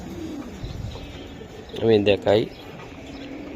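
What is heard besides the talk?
pigeons cooing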